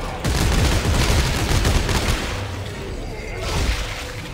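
Weapon fire in Dead Space 3 co-op on PC, loud bursts of shots and booms packed together for a couple of seconds, then easing into a rumbling, whooshing game backdrop.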